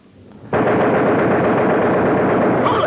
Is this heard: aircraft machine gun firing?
yes